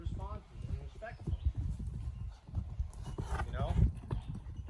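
A horse running loose in a round pen, hooves thudding in an uneven clip-clop rhythm close by, with a person talking over the hoofbeats throughout.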